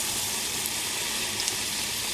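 Battered aubergine slices deep-frying in hot oil for crispy fritters, a dense, steady hiss and crackle close up, continuous with no talking.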